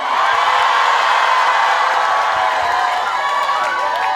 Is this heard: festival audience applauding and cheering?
yes